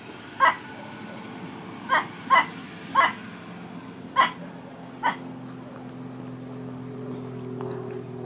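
A dog barks six times at irregular intervals, fairly close, over a low steady hum.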